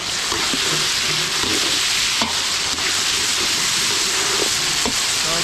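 Pork belly with garlic, onion and plenty of tomatoes sautéing in a pan for a catering job at a Laguna resort: a steady, close sizzle with a few sharp clicks of a stirring utensil.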